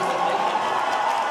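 A concert crowd applauding and cheering at a live show, a dense, steady wash of noise close and loud throughout the short moment.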